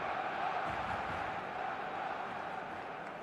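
Stadium crowd in the football video game eFootball: a steady, dense roar of many voices that holds evenly throughout with no single standout shout.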